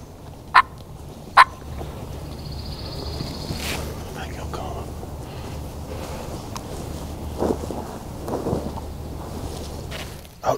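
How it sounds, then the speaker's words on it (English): A wild turkey gobbles from its roost in Alabama, two sharp, distant calls early on followed by fainter gobbles near the end over steady low wind rumble and a few quiet sounds in between. "We got one gobbling good off the roost there."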